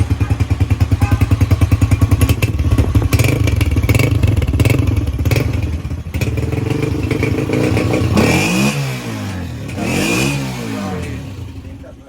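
Modified Honda CG motorcycle engine starts in one try and idles with a rapid, steady putter, then revs up in two rising and falling surges, loud and close, with some background chatter.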